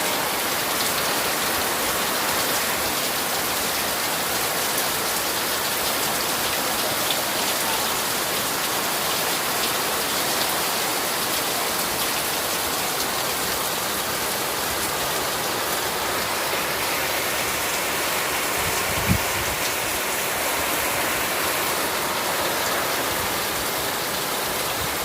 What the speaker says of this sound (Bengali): হাওয়া হচ্ছে আর বৃষ্টি হচ্ছে, ঝমঝম করে ভালো লাগছে